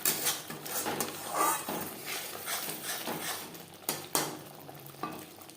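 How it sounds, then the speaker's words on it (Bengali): Ground spices are stir-fried with other spices in a pan, with repeated scraping and knocking of a spoon against the metal over a soft frying hiss, fairly quiet and close. "মশলার সাথে গুঁড়ো মশলা বেশ ভালো করে কষিয়ে নেব"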